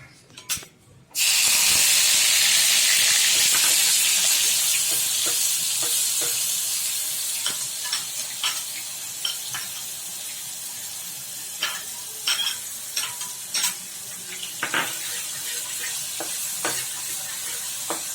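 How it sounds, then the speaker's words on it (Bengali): Ginger-garlic paste hits a hot pan with a loud burst of sizzling, then settles into a steady frying hiss broken by frequent scrapes and clicks of stirring, with no talk. "ফ্লেমটা একটু হাই করে আদা রসুন বাটাটা একটু লালচে হোক।"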